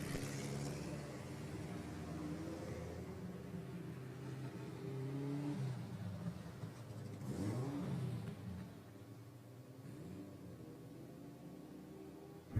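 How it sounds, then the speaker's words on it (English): Race cars at the Killarney circuit during a Power Series round pull out onto the track, their engines a steady loud roar that swells and fades as they pass, with revving throughout. "So the cars make their way out onto the circuit"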